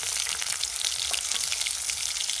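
Onion and bay leaves fry in oil at an outdoor village picnic cookout, giving a dense, even sizzle with scattered pops, close and steady.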